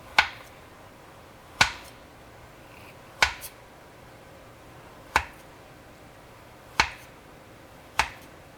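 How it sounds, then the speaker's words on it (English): A knife cuts through food on a board into quarter-inch slices, six sharp, isolated chops spaced about a second and a half apart in an otherwise quiet kitchen. "I'm going to cut this in 1/4-inch slices."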